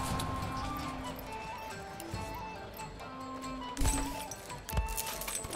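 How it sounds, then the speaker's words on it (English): Horse hooves clip-clop in a steady rhythm and a horse gives a whinny in the video game Manor Lords, set among game ambience at moderate level. "Okay, the horse is right there."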